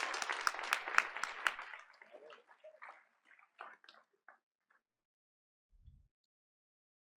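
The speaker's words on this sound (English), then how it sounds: "audience, let's please give our Sankofa scholars another round of applause." Applause from an audience at a Board of Education meeting, dense clapping that is loud at first, then thins out and fades to scattered claps and near silence.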